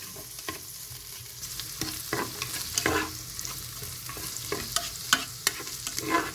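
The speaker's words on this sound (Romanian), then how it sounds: "vom adăuga șunca peste ceapa călită și vom amesteca până la scurgerea timpului" Ham and sautéed onion are stirred together in a Tefal One Pot for carbonara, a continuous close sizzle broken by frequent scraping stirs and small pops, with no voices.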